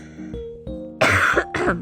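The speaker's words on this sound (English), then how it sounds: "Okay, you had a cough." Two harsh, loud coughs close to the microphone, following a few softer throat sounds, coming from a person partway through a conversation.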